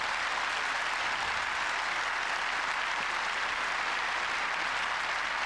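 A tennis crowd at the 1990 Eastbourne women's final gives a sustained, dense burst of applause, loud and even from start to finish with no break.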